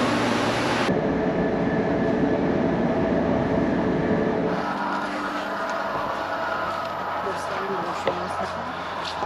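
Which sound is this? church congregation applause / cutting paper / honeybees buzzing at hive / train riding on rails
train riding on rails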